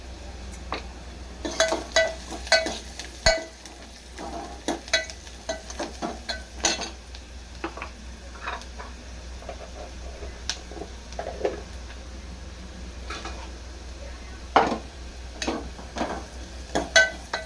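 Onions browning in a pan with a pinch of turmeric, for a spinach stir-fry, sizzle softly under repeated close scrapes and clinks of a stirring spoon, irregular and fairly quiet.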